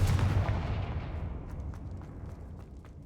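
A Confringo spell cast in Hogwarts Legacy: a single heavy, booming blast that erupts loudly up close, then rumbles and fades over a few seconds with faint crackles in the tail.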